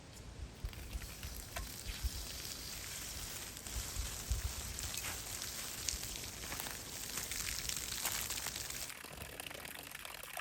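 Water draining steadily out of a house's plumbing lines after the well pump is unplugged, a continuous close rushing hiss like running water that holds at an even level before cutting off sharply near the end.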